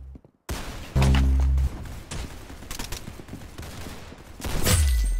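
Rapid gunfire from the Roblox Arsenal video game, on the aircraft map, rattles out in loud bursts, first a sustained volley and then scattered shots. A louder burst comes near the end.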